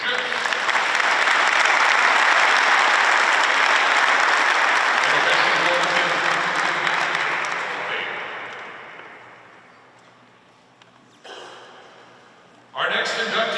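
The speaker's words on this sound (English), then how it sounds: "let's have a warm round of applause for Danny Schiff." Audience applause at a high school athletic hall of fame ceremony, sustained loud clapping from a large crowd that gradually tapers off, followed by a speaker beginning to talk at the end.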